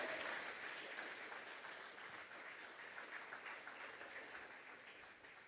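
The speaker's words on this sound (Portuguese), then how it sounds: "Pode aplaudir o Senhor?" A church congregation applauds at a Sunday morning service, steady dense clapping that fills the room throughout and fades slightly toward the end, with no voices over it.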